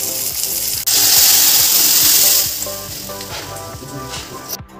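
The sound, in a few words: green chillies and tomatoes sizzling in tempering oil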